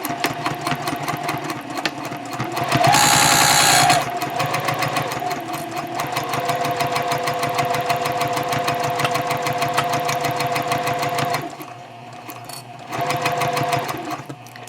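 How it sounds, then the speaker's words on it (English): A Juki TL 2010Q sewing machine stitches a seam in fabric, running in a steady, fast mechanical chatter that briefly whines louder near the start, pauses, then resumes. "I am sewing on a Juki TL 2010Q"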